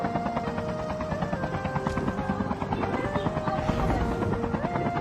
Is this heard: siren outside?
no